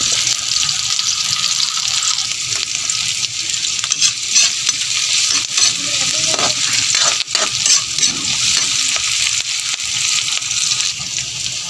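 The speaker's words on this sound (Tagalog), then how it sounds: "Ilagay na natin ang bawang at saka sibuyas" Garlic and onion sautéing in hot oil for chicken Bicol Express, a steady loud sizzle and crackle throughout with occasional stirring scrapes, close and continuous without talk.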